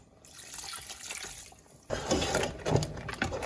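Water is poured and splashes into a mixer-grinder jar as it is rinsed after grinding chili. A quieter trickle comes first, then it becomes a fuller, louder rush of running water.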